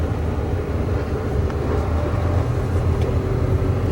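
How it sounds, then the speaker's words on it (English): Steady loud drone from a 2009 Volvo truck with I-Shift while its engine brake works on a Rocky Mountain downhill, a continuous low rumble with road noise throughout and no talk. "And I'll turn on the engine brake and I'll adjust it between the most powerful and the weakest settings"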